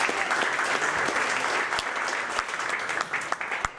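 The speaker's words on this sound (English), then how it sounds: "Give him a round of applause." A live audience claps steadily through the whole stretch at an afternoon pitch event, a dense sustained applause with a few sharper individual claps standing out near the end.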